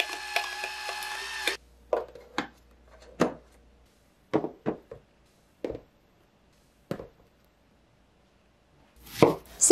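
A knife chops eggplant on a cutting board in several sharp, separate knocks with uneven gaps between them, close and fairly quiet, with brief musical tones at the start and end.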